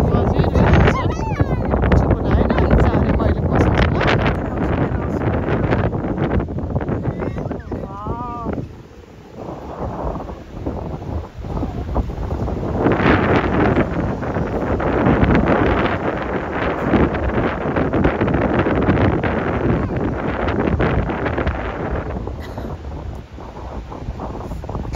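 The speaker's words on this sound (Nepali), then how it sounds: "हावा चाहिँ भित्रदेखि नै लागिरहेछ" Gusty wind buffets an outdoor microphone by the water, with lapping waves nearby, a loud continuous roar swelling and easing over the whole stretch while voices talk faintly underneath.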